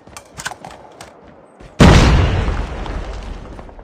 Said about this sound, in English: Grenade, run!